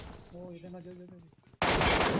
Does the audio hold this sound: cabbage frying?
no